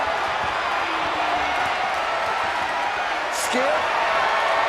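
Loud wrestling arena crowd roaring and cheering continuously as a wrestler fires them up, with a commentator-style voice talking over the noise and a brief whoop near the end.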